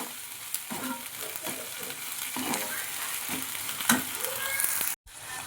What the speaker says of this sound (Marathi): थोडा तो तेलावरती नरम झाला का त्याच्यामध्ये आपण टोमॅटो टाकणार आहोत.